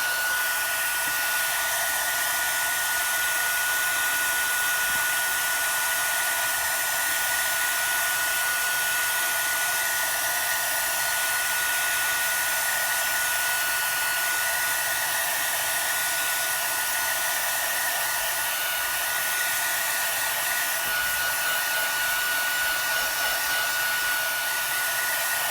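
Heat tool blowing steadily on Lunar paste by Simon Hurley to dry it, a continuous loud airy whoosh with a whining tone running unbroken throughout, no talking.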